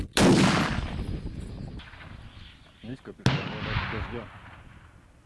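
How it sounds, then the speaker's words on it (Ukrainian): A sharp, loud gunshot cracks at the start, followed by a second sharp bang a few seconds later, with a person speaking Ukrainian in between. "Увага, постріл!"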